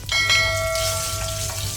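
Dried red chillies and garlic fry in hot oil over a low flame, a steady close sizzle with bright metallic ringing tones on top and light clinks as pieces go into the pan.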